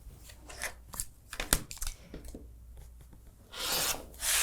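Scissors cut quilting fabric along a drawn line in short, close, crisp snips and rasps, then a louder rustle of the fabric being handled near the end, with no talking.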